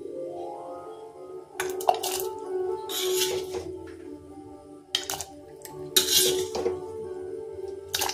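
Clanks and scrapes of a utensil against a pot as vegetables go into simmering khichuri, with bursts of clatter and stirring over a steady low bubbling hum.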